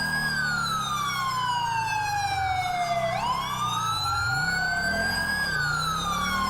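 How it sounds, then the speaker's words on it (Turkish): A fire truck siren in a GTA 5 convoy, mixed with other emergency sirens. The loud, close wails glide down and back up over a steady truck engine drone, with no voices. "İtfaiye de var aynı zamanda."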